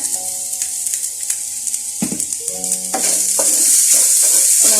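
Crushed coconut, green chilli and garlic sautéed in oil hiss and crackle, with a few stirring scrapes early on, then the sizzle grows louder and steadier over background music.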